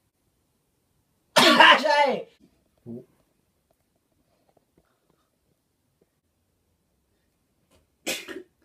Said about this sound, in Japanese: まずは大きいくしゃみから。 大きいくしゃみ。